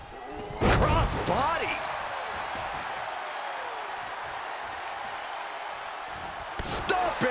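A wrestler stomps on his opponent's leg in a WWE ring during a Monday Night RAW match between Dominik Mysterio and Roman Reigns, a sharp slam on the mat followed by loud arena crowd noise and a second thud near the end.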